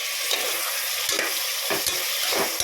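Oil sizzles steadily as chopped tomatoes and onions are stirred in a pan, with periodic scraping strokes of a spoon every half second or so.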